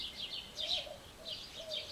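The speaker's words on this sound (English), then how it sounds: "birdsong-filled deck" Birds sing faintly outdoors on a deck, with a few short high chirps and trills coming in bursts against quiet background noise.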